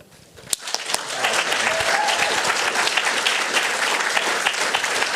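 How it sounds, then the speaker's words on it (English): Audience at a venture pitch event breaks into applause for the speakers, starting with a few scattered claps and quickly swelling into sustained, full-room clapping that holds steady to the end. "we'll have one quick last thunderous round of applause for all the speakers"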